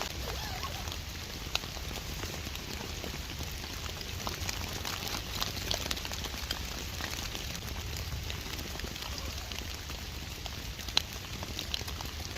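Heavy rain drums steadily and densely on a Unigear Space Dome 2 tent, a constant close hiss with occasional sharper drop hits, no voices.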